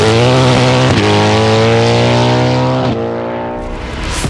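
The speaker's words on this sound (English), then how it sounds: "Only then does it drop the clutch and drag start the gas motor." A loud Cadillac Le Mans race car's 5.5-liter naturally aspirated cross-plane V8, drag-started, roars close by, revving with sharp gear-change steps in pitch before easing off toward the end.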